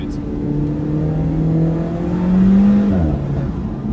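Close-up engine of an Alfa Romeo sports car driven on the road, a droning note that climbs steadily in pitch under acceleration, peaks, then drops sharply as the throttle lifts.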